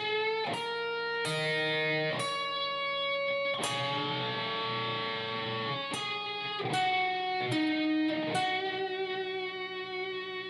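Electric guitar slowly playing a blues solo phrase: distinct, separated bent and sustained notes with vibrato, played solo at moderate volume, no talking.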